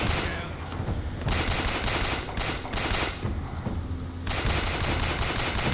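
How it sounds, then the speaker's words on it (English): Sustained gunfire in the video game Bioshock Infinite, dense rapid bursts of shots and fusillades overlapping continuously, loud and close with no pauses. "Who is shooting at me?"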